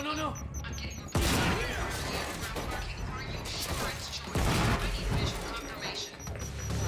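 A grenade explodes during combat in the Quantum Break video game, with loud bursts amid gunfire and clattering action. A player talks over the noise throughout.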